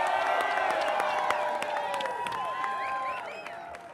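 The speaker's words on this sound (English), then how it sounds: "Give yourselves, Denver, a round of applause." Crowd at an election-night victory rally for the Denver mayoral runoff, with steady loud applause, cheering and scattered whoops that carry on throughout and fade slightly toward the end.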